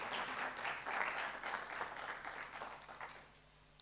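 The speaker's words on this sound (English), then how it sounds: "Can we give a louder applause to the Vice Chancellor?" Conference audience at an African facilities management event applauding the Vice Chancellor: soft, fairly distant clapping from a seated crowd, steady and then gradually fading.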